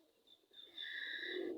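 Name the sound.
pigeons cooing on a rooftop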